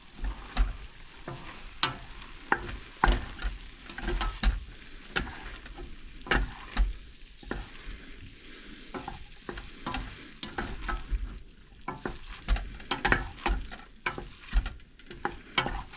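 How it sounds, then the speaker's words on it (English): A spoon stirs flour through browned sausage in a pot over heat, a steady scraping and clacking with a soft sizzle underneath, close and continuous with no talking. "you want to take it and mix it around. Try to coat your sausage with it."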